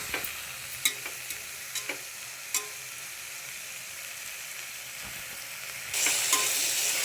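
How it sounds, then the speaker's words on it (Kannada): Mushroom pulao ingredients frying in a pan make a continuous close sizzle, punctuated by several sharp spoon clicks and scrapes from stirring, growing louder toward the end. "ಸ್ವಲ್ಪ ಫ್ರೈ ಆಗಲಿ ಒಂದು ನಿಮಿಷ"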